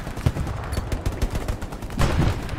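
Gunfire in the World War II shooter Hell Let Loose during a 50-versus-50 battle at Foy, a rapid stream of loud, close shots merging into sustained bursts, with denser fire near the end.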